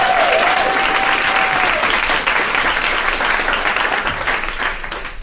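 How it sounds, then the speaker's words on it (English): Sustained audience applause for a speaker at a social entrepreneurship event on employment pathways, a dense, even wash of clapping that carries on for several seconds and gradually tapers toward the end. "Let's give a big round of applause for Jordyn Lexton."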